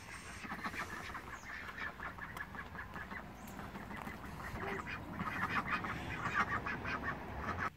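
A flock of free-roaming ducks quacks nonstop alongside clucking chickens and a turkey, a busy, overlapping chatter of calls close by that grows slightly louder toward the end.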